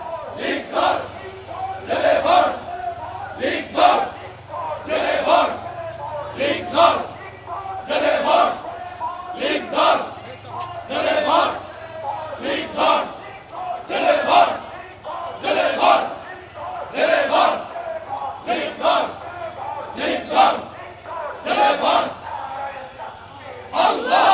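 A protest crowd in a Dhaka street, near Gulistan and Paltan, chants political slogans in a steady call-and-response rhythm, with loud repeated bursts of many voices.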